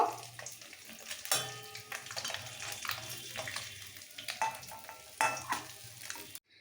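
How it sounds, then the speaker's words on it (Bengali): Small fish, chara pona, fry crisp in hot oil in a pan. A dense, continuous sizzle crackles up close, with occasional stirring scrapes before it cuts off abruptly at the end. "এই ছোট মাছগুলো কিন্তু একটু কড়া করে ভাজতে হবে"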